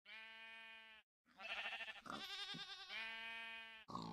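Sheep bleating close by, several long harmonic bleats in sequence with a brief pause after the first and a short final cry at the end.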